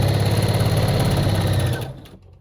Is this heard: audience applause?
no